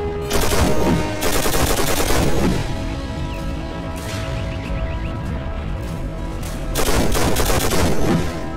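Machine gun fire in the video game Call of Duty: World at War, loud sustained bursts in two heavy stretches with quieter rattling gunfire and crashes between them, no talking.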